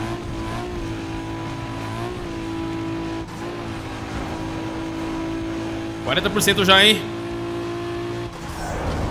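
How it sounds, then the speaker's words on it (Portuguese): A Nissan Skyline with its original engine note in Need for Speed Underground 2 hums in a steady drone, then surges in a brief loud rev with tire squeal, while someone talks over it. "Skyline com ronco original"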